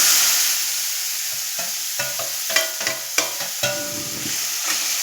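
Chakvat greens sautéed in a pan are stirred with a ladle, giving a series of scraping knocks over a steady close sizzle, with no talk.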